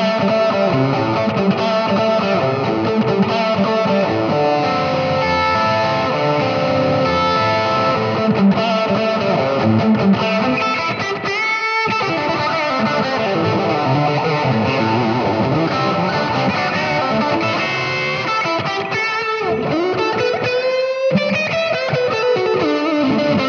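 A bluesy electric guitar plays through a Blackstar Debut 50R amp, loud and continuous with a distorted tone, in sustained chords and single-note runs that bend and ring out without any talking.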